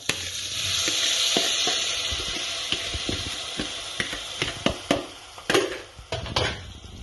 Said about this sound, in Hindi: आतां मुगे हो गार्लिक जिंजर भाजलो.